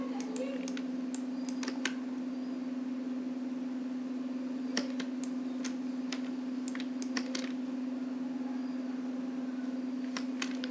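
Computer keyboard and mouse clicks while editing a wedding invitation in After Effects, scattered sharp taps in irregular clusters over a steady electrical hum, close and fairly quiet.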